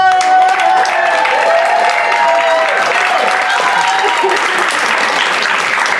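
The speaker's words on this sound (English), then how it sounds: "I want y'all to put your hands together for Disa!" A comedy club audience at a stand-up class show breaks into loud, continuous applause, with cheers and whoops rising over the clapping throughout.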